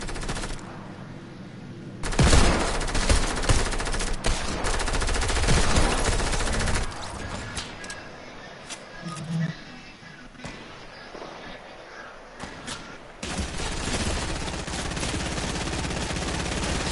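Automatic gunfire in an online payload-style shooter game comes in long, loud rattling bursts separated by short pauses, with other game noise underneath.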